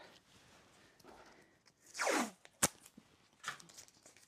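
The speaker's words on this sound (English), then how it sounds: "Let's grab a bit of masking tape." Masking tape is peeled off a roll in one drawn-out, sweeping rip, near and fairly loud, followed by a sharp snap and a few softer crinkles as it is handled for taping down a stencil on a watercolour bookmark.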